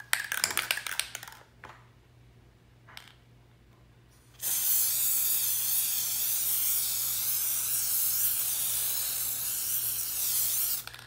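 A spray can puts a light coat onto a 30oz tumbler. A few short clicks and brief spurts come first, then a long, continuous close hiss of spraying for several seconds.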